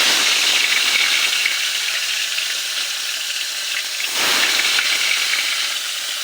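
Fish fry in white oil in a wok, giving a loud, steady, close hiss of sizzling with a brief swell partway through as the frying intensifies.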